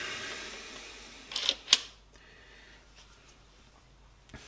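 A rifle bolt is slid out of a 7mm rifle: a short cluster of crisp metallic clicks and a scraping slide, close and quiet, with no talk.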